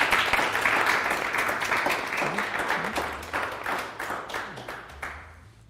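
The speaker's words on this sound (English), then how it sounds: "The applause is for you." An audience at a games graduation event applauds, a dense, sustained wash of clapping that fades gradually over several seconds, with faint voices underneath.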